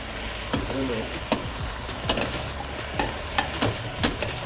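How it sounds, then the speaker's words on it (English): Eggplant, potatoes and carrots cooking in a pan, giving a soft constant sizzle broken by repeated sharp clacks and scrapes of stirring in an irregular rhythm, with no talk. "The eggplant cooking, the potatoes, the carrots, allow them to mingle nicely."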